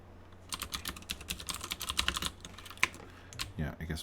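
Rapid typing on a computer keyboard while programming, a steady run of close, crisp key clicks in bursts over about four seconds, with a brief pause near the end and no talking.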